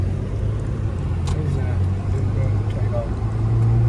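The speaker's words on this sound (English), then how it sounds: "I can hear that engine revving" KDMAX Pro 10.0 car engine humming steadily at speed, a low continuous drone throughout with faint whirring and some road noise.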